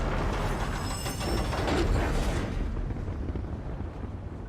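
A heavy, continuous low rumble with a roaring, explosive quality fills the scene, then gradually thins and fades toward the end: a Dark Anchor in The Elder Scrolls Online.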